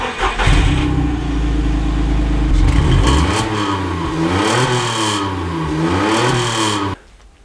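A 2004 Skoda Fabia fitted with a sport exhaust line starts and idles with a deep rumble, then its engine is revved repeatedly in rising and falling surges before cutting off abruptly, loud and close.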